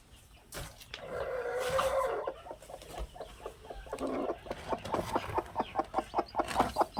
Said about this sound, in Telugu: ఇది మన కోడ అనమాట